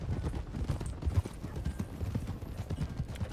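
Horse hooves clip-clop at a steady walking rhythm in the Western roleplay game RedM, with close, dull, repeated thuds running through the whole clip and no talk over them.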